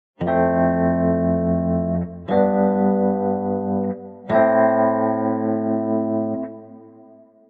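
A sustained harmonic instrument tone plays three long notes, each washed in heavy reverb that lingers and decays after the notes cut off.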